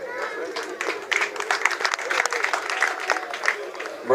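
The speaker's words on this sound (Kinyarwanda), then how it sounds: "Amashyi menshi kuri Vice President w'inama njyanama" Steady applause from an audience at a Kirehe district awards ceremony, honouring the council's vice president; dense clapping holds evenly throughout at moderate loudness, with no clear speech over it.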